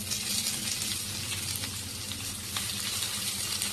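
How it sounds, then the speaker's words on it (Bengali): Chopped onions hit hot oil with garlic that is already reddening, giving a steady bright sizzle and hiss throughout over a faint low hum, with no one talking. "এর মধ্যে আমি দিয়ে দিচ্ছি কেটে রাখা পেঁয়াজ।"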